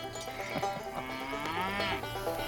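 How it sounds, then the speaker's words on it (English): Cow on a dairy farm mooing loudly and close, one long drawn-out low call rising in pitch, with faint farmyard background and no talk. "The parlor is where the cows get milked."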